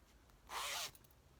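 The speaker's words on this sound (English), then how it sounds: "it's got a zipper that you have to open" A zipper on a quilted bag is pulled open in one quick, close, rasping stroke lasting under half a second, with quiet room tone before and after.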